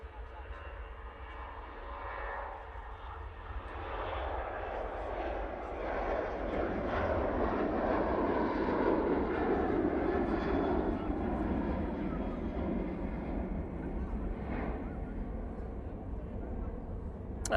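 An airliner departs Manchester Airport bound for Copenhagen, its engines making a broad, steady roar that builds and holds at moderate distance for the whole stretch, with a voice talking over it.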